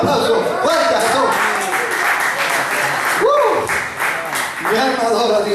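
A church congregation applauding, with dense, loud, continuous clapping throughout and voices calling out and singing over it.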